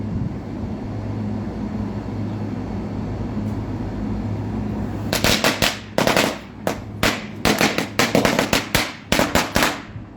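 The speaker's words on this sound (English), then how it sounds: "My neighbor is setting off fireworks." Fireworks set off by a neighbor: after several seconds of quiet background hum, a rapid string of sharp crackling firecracker bangs bursts out at mid distance, irregular and loud, continuing to the end.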